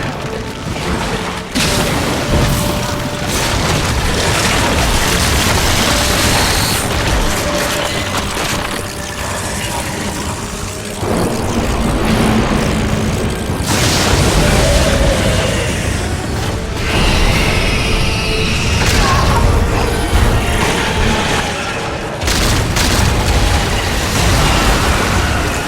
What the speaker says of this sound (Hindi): लियोन ने कुछ ग्रेनेड टाइप या कुछ C4 टाइप इसके सर पे रखा है